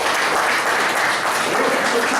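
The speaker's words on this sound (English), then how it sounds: "A big round of applause to Mr." A crowd applauds steadily, a dense wash of many hands clapping at even loudness throughout.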